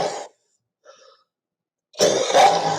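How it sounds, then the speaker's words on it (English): A harsh, rough-sounding cough, heard as a short burst, a quiet breath, then a louder, raspier chesty cough close up. "That's a bad sounding cough."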